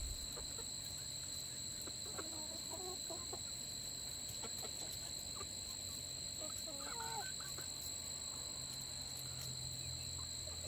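Hens and a rooster cluck and call intermittently in a backyard flock as they peck at a tobacco hornworm, a few short clucking bursts over steady background hiss and a constant high-pitched insect-like whine.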